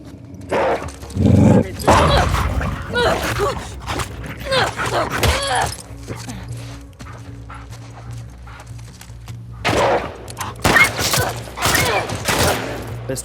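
In the video game The Last of Us 2, a dog barks in short bursts amid footsteps, rustling and other game sounds, loud and close, with some quieter stretches between.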